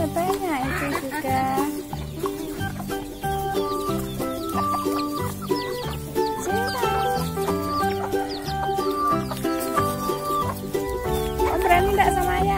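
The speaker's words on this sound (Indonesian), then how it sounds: "Ayamnya dikasih makan itu" Many farmyard chickens cluck and chatter continuously close by while being fed, with adults and someone talking over the flock.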